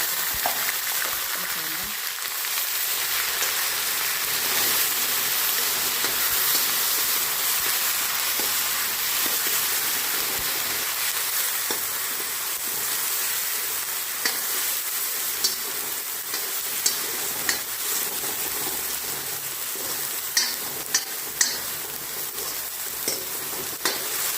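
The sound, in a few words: fenugreek and cumin seeds sizzling in hot oil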